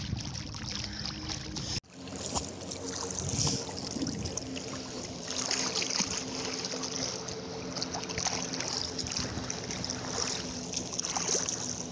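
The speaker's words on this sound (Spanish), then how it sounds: "Lancha grande, lancha colectivo." A large passenger motorboat cruises past on the Sea of Cortez near La Paz, Baja California Sur, its engine drone and hull wash blending with lapping water in a steady, moderately loud rumble after an abrupt start.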